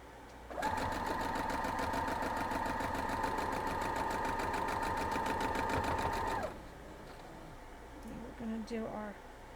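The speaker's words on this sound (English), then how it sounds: "Now let's head over and we'll start sewing." A sewing machine stitches quilt block pieces for a diamond pinwheel quilt in one steady, loud, rapid run of about six seconds, then stops, leaving a quiet room with faint handling noises.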